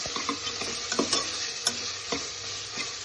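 Onions and tomatoes frying in oil with ginger garlic paste for chicken biryani, a soft sizzle with scattered stirring clicks and scrapes, fairly quiet with no talk.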